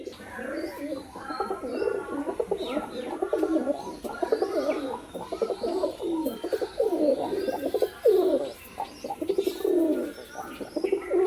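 A pair of pigeons, male and female, coo steadily and close by, overlapping throaty rolling calls continuing throughout, with occasional faint chirps in the background.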